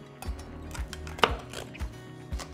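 A knife crunches through the crispy crackling skin of air-fried lechón pork, giving a series of sharp, close cuts at an uneven rhythm with a faint clatter of a board or pan.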